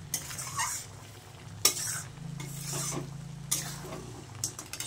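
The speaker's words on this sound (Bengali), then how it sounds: "কষিয়ে আরেকটু কষিয়ে নেব" Crab curry cooking down in a pan, with a spoon scraping and stirring through thick gravy over a steady sizzle, sharp metallic clinks breaking in every second or two.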